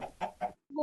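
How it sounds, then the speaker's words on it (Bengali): A Minecraft chicken clucks in three short, evenly spaced bursts, followed by a brief silence and another cluck; the sounds are close and clear, with no talking. "মুরগি"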